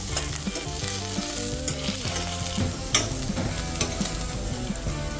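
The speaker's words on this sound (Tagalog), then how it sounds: "Piprituhin lang natin ang patatas at carrots." Potatoes and carrots frying in hot oil in a pan give a continuous loud, crackling sizzle, with occasional sharper pops and scrapes of stirring, and no voices.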